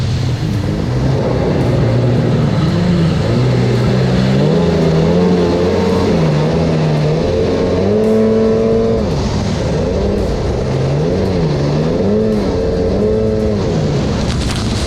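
Two 1995-96 Sea-Doo XP personal watercraft engines run loud and close, with a continuous two-stroke drone whose pitch rises and falls as the throttles change.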